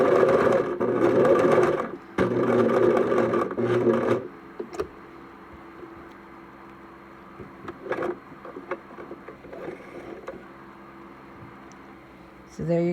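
A sewing machine stitches fabric along the selvage edge against a masking-tape guideline, running in two loud whirring bursts of about two seconds each. Quieter handling and rustling follow.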